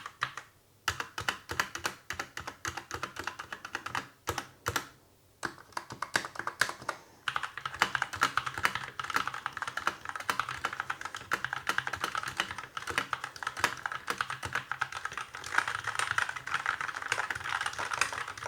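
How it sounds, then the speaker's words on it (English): Rapid typing on a Dierya DK63 mechanical keyboard with red switches, dense clacking keystrokes with brief pauses early on, then a continuous fast stream. "Let's do a typing test for you guys."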